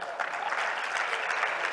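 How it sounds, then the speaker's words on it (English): An audience at the #PushaBW Forum during Global Expo Botswana 2023 applauds a food business, producing an even, steady wash of many hands clapping at moderate distance without any break. "Round of applause for Taste of Botswana."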